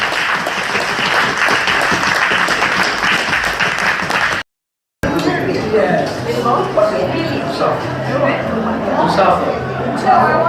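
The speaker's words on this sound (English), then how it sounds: "a bigger round of applause for Dr. Harold Gunadilaka, please." Audience applause at a Sri Lankan seniors' annual event in New South Wales, Australia: sustained, dense clapping from a crowd, cut by a brief gap, then continuing with scattered chatter and voices mixed in.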